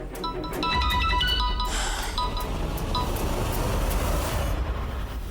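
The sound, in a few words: phone ringtone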